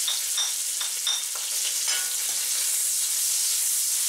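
Chicken pieces stir-frying in a hot pan just after chili pepper goes in, a loud close sizzle with quick scraping stirs and light clinks of the utensil, no voices.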